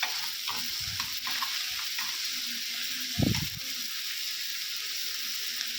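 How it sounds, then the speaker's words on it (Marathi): Dried shrimp (sukat) tossed into masala in a hot pan for an Agri Koli style chutney, with a steady oily sizzle and occasional stirring scrapes, plus one soft thud midway. "हे छान मिक्स झाल्यानंतर आता यात सुकट टाकायचं आहे"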